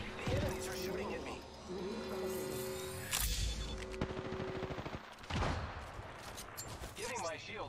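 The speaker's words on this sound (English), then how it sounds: "The enemies are shooting at me." Enemy gunfire in Apex Legends, bursts of rapid shots rattling off in quick volleys amid game sound effects, with a player's voice talking over parts of it.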